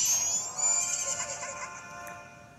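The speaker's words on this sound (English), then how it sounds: "There's a big horse on there." A horse whinnies in the video game Majora's Mask 3D: a bright, wavering neigh that starts loud and fades over a few seconds, with no talking over it.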